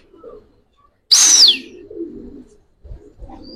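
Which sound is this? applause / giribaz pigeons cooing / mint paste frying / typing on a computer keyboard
giribaz pigeons cooing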